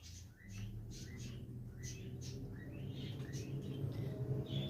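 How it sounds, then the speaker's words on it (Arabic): Pharaonic chickens in an aviary give repeated short, high chirping calls in quick succession over a steady low background hum, moderately near and fairly faint throughout. "ودي الفراخ الفرعوني، هما كبروا شوية بس المشكلة في صوتهم بصراحة دول"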